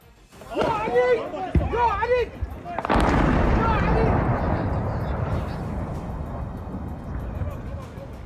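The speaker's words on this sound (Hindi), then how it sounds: "एक रॉकेट तो जमीन पर गिरने के बाद तेज धमाके के साथ फटता दिखा" A rocket fired at the US embassy in Baghdad strikes the ground and detonates in a sudden loud blast, with a long rumbling roar that follows and slowly fades. A voice speaks over the moments just before the blast.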